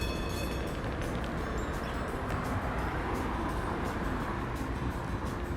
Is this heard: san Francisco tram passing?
yes